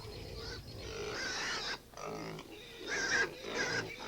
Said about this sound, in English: I used to think that pigs were still raised like this, outdoors, in a pleasant barnyard.